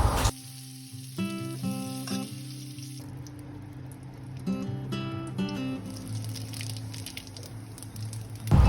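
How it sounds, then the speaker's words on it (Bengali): Cauliflower and potatoes fry in oil in a wok, giving a soft continuous sizzle and hiss. Brief ringing tonal clinks come near the start and again midway, and there is no talking. "তেলের মধ্যে এখানে ফুলকপি আলুটাকে এবার ভালোভাবে ভেজে নেব"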